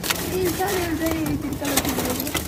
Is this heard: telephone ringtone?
no